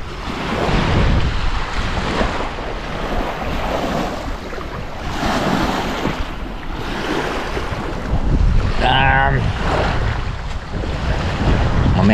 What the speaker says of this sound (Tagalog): Nakaka-relax yung mga talbog ng alon. At ang simoy ng hangin.